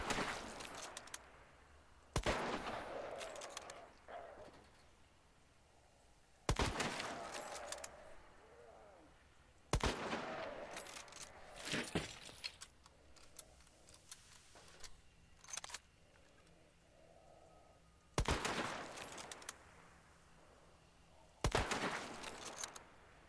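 Sharp gunshots in a shooter video game on hard difficulty, fired in separate bursts spaced a few seconds apart, each a loud crack with a short decay over a low background hum.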